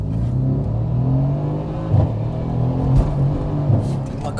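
Mercedes C63 AMG accelerating hard, its deep engine roar rising in pitch with strong harmonics and brief surges near two and three seconds, loud and close throughout.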